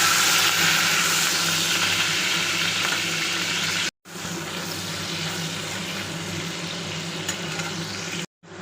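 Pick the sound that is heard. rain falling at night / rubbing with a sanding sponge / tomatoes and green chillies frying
tomatoes and green chillies frying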